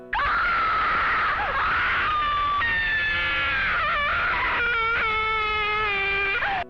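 Screaming effect from the Slendertubbies fan game, a Slenderman and Teletubbies mashup: a loud, sustained, distorted shriek that wavers and shifts pitch for several seconds with no break.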